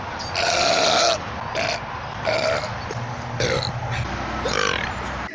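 A run of five loud, rasping burps in quick succession, each short and throaty with a steady low rumble underneath.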